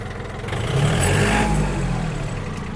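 Yanmar US-31D mini tractor engine pulling in second gear, a close, loud diesel drone that rises briefly as it gains revs and then settles back to a steady rumble.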